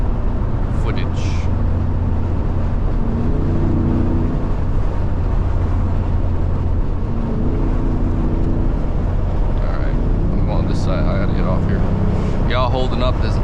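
A loud Ford F150 with a 5.0 engine rumbles continuously in morning traffic, a steady low drone filling the scene while someone talks over it intermittently.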